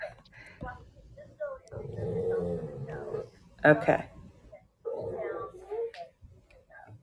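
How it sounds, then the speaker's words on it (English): A small dog whimpers and gives a few short yips, heard faintly in the background of a live online show while people talk over it. "You can hear her sweet little dog."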